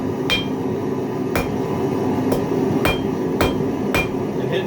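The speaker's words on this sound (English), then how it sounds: "what I'm doing here is called half face blows. Where I'm putting the steel at the edge of the anvil" Hammer half-face blows strike hot steel at the edge of an anvil in a forge, six sharp metallic rings spaced about a second apart over a steady background hiss.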